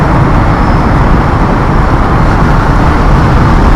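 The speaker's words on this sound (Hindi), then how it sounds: "काफ़ी लंबी ट्रैफिक की लाइन है।" Heavy road traffic roars through a tunnel in Tehran: a loud, dense, unbroken rumble of engines and tyres, echoing and close, with no distinct single vehicle standing out.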